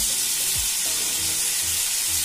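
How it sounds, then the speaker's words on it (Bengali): Prawns fry in a pan with a steady close sizzle throughout, while soft scraping knocks from turning them come through underneath. "চিংড়ি মাছগুলোর এক পিঠ ভাজা হয়ে গেছে, অপর পিঠ উল্টে দিচ্ছি।"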